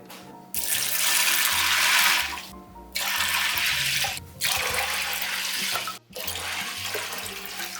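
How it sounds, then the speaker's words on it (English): Tap water runs loudly into a Dutch oven of beans in a home kitchen, a steady close rushing stream that cuts off and restarts several times as the flow is interrupted. "I'm just gonna fill it with water about 1 inch above the beans"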